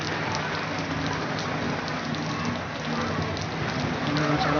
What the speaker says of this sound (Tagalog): Lakas na ulan eh.